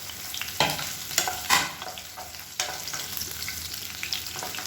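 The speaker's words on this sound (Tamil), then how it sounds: "பெரிய வெங்காயம் நீளமாக நறுக்குனதை சேர்த்து வதக்கி விட்டுக்கலாம்" Long-sliced onions with a piece of cinnamon bark, bay leaf and cardamom sauté in a pan with a steady sizzle, punctuated by several sharp stirring scrapes and clinks.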